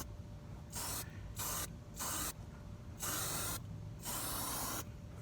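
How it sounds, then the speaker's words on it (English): Spray adhesive hisses from an aerosol can onto a car headliner in a series of short bursts, about five presses with brief gaps between them, close and clear. "I'm gonna just give it a little spray. As you can see, it goes on just like glue."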